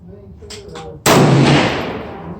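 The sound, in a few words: rifle shot fired from prone position with a bipod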